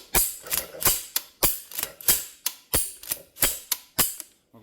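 An airsoft gun with a newly installed gearbox fires on semi-auto, nine or ten sharp, evenly spaced mechanical cracks with a clattering snap, loud and close, with no talk.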